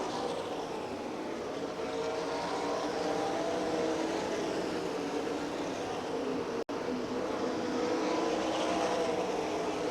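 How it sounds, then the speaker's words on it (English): 360 sprint car engines roar in a steady, continuous drone from some distance on a dirt track at the Knoxville Nationals, the loud rumble swelling slightly as the cars circle. "it's still Nelson and Bell down the back chute through lap traffic, heading into that 3rd turn"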